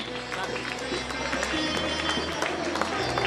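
Children applaud to welcome the chief guest at a Balotsav school celebration, a quick crowd of small claps that runs throughout, set against a steady low hum and some voices.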